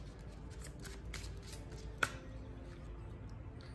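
Quiet, soft riffling of cards repeats in quick bursts, with one sharp snap of a card near the middle.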